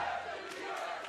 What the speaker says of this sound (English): It's a crowd war. It's a cheering contest back and forth.